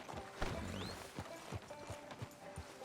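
Horse hooves clip-clop at a steady walking pace in Red Dead Redemption 2, the regular thuds close and clear over a low background bed of game ambience.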